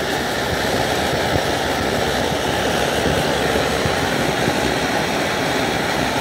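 An MSR Dragonfly camping stove burns with a BernieDawg silent damper fitted, making a loud, continuous roaring hiss that stays steady throughout, close by and alone.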